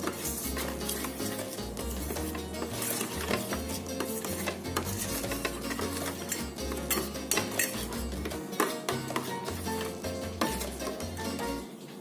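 A spoon stirs a little sugar into a kasundi mustard marinade for rui fish, with repeated clinks and scrapes against the bowl heard under steady background music.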